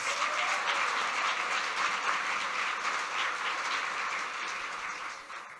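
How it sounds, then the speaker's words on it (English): Loud, sustained clapping from a large crowd at the New Rochelle State of the City 2025 address, steady and dense throughout before tapering slightly at the end. "Can we give them a round of applause?"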